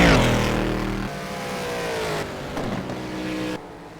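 Race car engine in a racing video game pulling out of pit lane at Sepang during a six-hour endurance event, loud and close with rising revs and gear changes, fading slightly toward the end.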